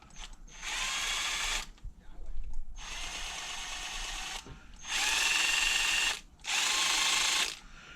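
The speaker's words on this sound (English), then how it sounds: "now you see it spin with the drill" A power drill spins the nitro engine of an HPI Savage RC truck, whirring in four loud bursts with short pauses between, spinning steadily at high speed.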